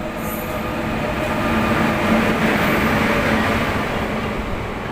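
A passenger train pulls out of Nimtita station with a steady, loud rumble of wheels and carriages. Faint squeals mix into the rumble as it gathers pace, heard close from on board, and no one speaks.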